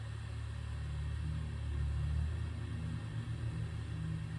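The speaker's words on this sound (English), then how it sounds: "Sorry about that car." A car passing outside, heard from indoors as a deep, steady rumble that swells slightly toward the middle and then eases, staying low and continuous for several seconds with no voices.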